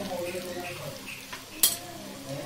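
A utensil stirs shallots and curry leaves in a pan for Kerala-style kadala curry, producing soft scraping and faint sizzling with one sharp metallic clink near the end.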